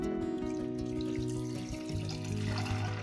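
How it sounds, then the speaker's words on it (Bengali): Water poured into a pressure cooker holding soaked chana dal, a steady close trickling splash running without pause, with a low tonal hum underneath. "তারপর দিয়ে দিন পরিমাণ মতো জল"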